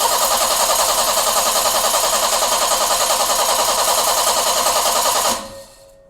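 A BMW E30 engine cranks with a fast, rhythmic starter churn that keeps going without catching, then cuts off abruptly into near silence.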